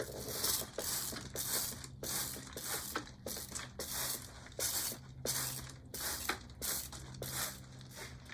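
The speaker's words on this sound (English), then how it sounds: "I think I want to give these roots a spritz" A handheld spray bottle spritzes the roots of an Alberta spruce during repotting, giving about a dozen sharp hissing squirts in a fairly regular rhythm, close and moderately loud, with no one speaking.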